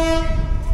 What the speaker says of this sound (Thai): ได้ยินเสียงรถไฟไหมฮะ